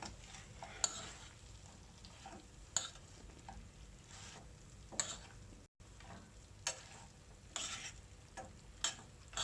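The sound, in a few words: fried chicken wings being stirred into sauce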